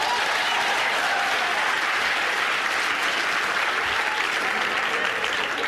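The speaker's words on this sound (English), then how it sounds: "Look who's clapping, guys." Seminar audience clapping in a large hall, a thick, sustained roar of applause that holds evenly from start to finish.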